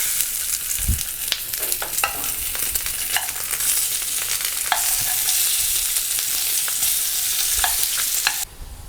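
Pork belly torreznos fry in a ceramic pan, their skin bubbling, with a loud continuous sizzle and crackle throughout and scattered sharp pops and spatters, ending in a brief quieter moment.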